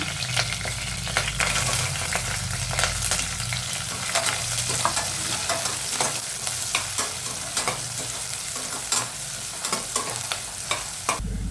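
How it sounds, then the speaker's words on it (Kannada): Chopped onion dropped into hot oil with whole spices for a pulao, sizzling loudly and continuously with frequent clinking stirs, close and without talk. "ಕಟ್ ಮಾಡಿರೋ ಒಂದು ಆನಿಯನ್ ಹಾಕೊಳ್ಳೋಣ."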